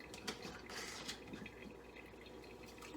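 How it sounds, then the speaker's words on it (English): Water sloshing and swirling inside glass sprouting jars to rinse alfalfa and arugula seeds, a soft, continuous close-up wash with a few small splashes and drips, no voices. "I just fill them up, the jars. And I first do this to rinse them."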